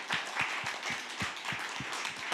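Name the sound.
audience applause for session speakers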